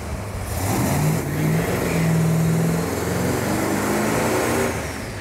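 Engine of an older Dodge Charger Daytona revving steadily on a dyno, held at a loud, sustained mid-range drone that swells slightly and then holds without a break, with no talking over it.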